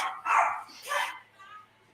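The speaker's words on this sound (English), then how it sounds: "Buddy is through there and he's barking" A pet dog named Buddy barks from another room of a house, two or three short muffled bursts at moderate distance, with faint room noise between them.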